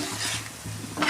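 Okra, drying after its water has cooked off, is stirred in a pan for a mustard-chilli dish, giving soft scraping strokes over a faint background, with a louder scrape at the end.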